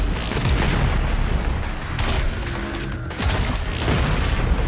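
Grenade blasts tear through combat in DOOM Eternal, a dense, loud barrage of booming explosions and bursts rolling almost continuously, with brief dips between volleys.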